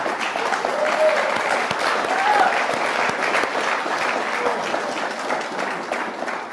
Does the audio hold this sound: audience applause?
yes